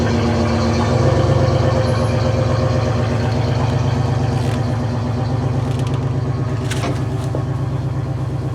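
A 4x4 truck in four-wheel drive low works to pull a load for a barn project, its engine running loud and steady throughout with a low, continuous drone and a few faint clanks, no talking.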